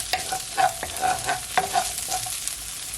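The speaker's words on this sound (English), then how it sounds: "So after 10 seconds, I'm just gonna add my onions." Onions hit a hot pan for jerk chicken rasta pasta and are stirred, with a low steady sizzle under quick scraping clicks of a utensil against the pan, close and moderately loud.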